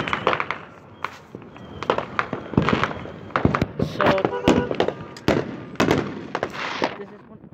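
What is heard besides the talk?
fireworks exploding outside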